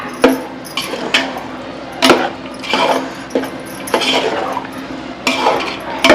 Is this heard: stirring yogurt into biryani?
yes